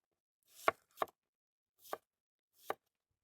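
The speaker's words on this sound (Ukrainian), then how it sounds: "Цибулю ми також відрізаємо хвостики і нарізаємо на такі порційні шматочки, щоб помістилися у м'ясорубку" A knife chops an onion into chunks on a board with four crisp, separate thunks spaced irregularly over a few seconds, close and clear against silence.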